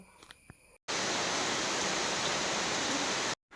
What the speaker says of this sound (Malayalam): അതെ മഴ തന്നെ മഴയാണ്